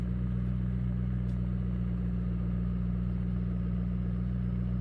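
A McLaren P1 GTR race car in Assetto Corsa gives a steady, low engine drone that holds even and loud throughout, with no clear rise or fall in revs.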